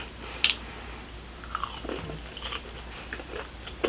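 Chick-fil-A fries are bitten and chewed close to the mic, soft crunches and moist chewing in a quiet room with a few sharper bites scattered through.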